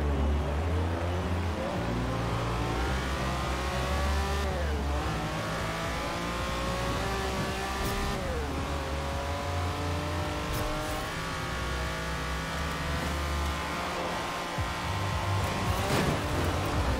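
Lamborghini Countach in the racing game Forza Horizon 4, its engine note climbing and dropping through repeated revs and gear changes, a continuous loud roar without any talk.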